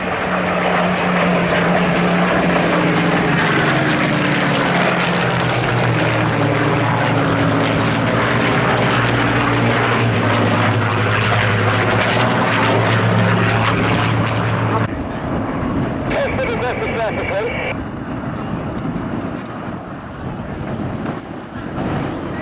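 Hawker Hurricane flying alongside three Spitfires (Mk.IIa, Mk.5 and Mk.16) at an RAF air show, their piston propeller engines droning loud and steady overhead with a pitch that slides downward as they pass, fading somewhat toward the end.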